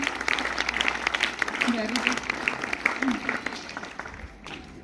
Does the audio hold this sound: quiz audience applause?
yes